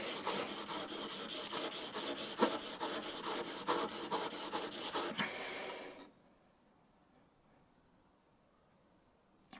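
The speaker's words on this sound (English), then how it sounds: "I'm using my 600 grit diamond stone. So I'm coming in here, running it back and forwards" A scraper plane blade is rubbed back and forth on a 600 grit diamond stone, producing a fast, steady rasping rhythm of short gritty strokes, close and fairly loud, that stops abruptly, leaving near silence.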